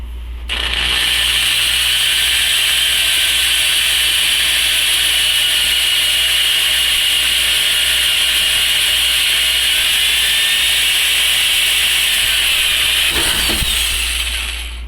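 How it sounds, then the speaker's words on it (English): A loud power drill with a wobbly bit whirs continuously at a steady high pitch for several seconds, close and sustained, then winds down at the end. "That is a wobbly drill bit."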